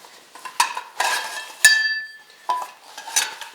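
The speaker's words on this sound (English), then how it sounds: "we have our standard skillets" Carbon steel skillets clinking and knocking against each other as they are handled, several separate metallic strikes close by, one ringing briefly with a bright tone, and no speech.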